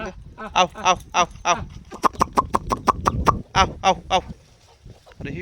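Free-range country chickens and chicks on a village farm, with repeated loud clucks and a quick run of sharp calls close by, mixed with low background talk.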